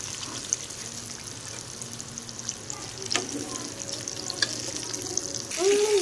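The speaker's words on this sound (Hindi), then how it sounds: "तो बाकी के भी हम इसी तरह फ्राई करते हैं" Chicken popcorn frying in hot oil, a continuous dense sizzle and crackle with occasional sharper pops and a light stirring clatter, swelling louder at the very end, with faint talk underneath.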